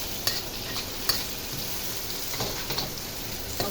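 Squid sizzling and frying in a pan for adobo pusit, a steady close hiss with a few sharp pops and crackles, no talking.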